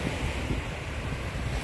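Ocean surf rolling onto the long sandy beach at Le Touquet, a steady broad wash of waves with wind buffeting the microphone, continuous and fairly loud with no talking.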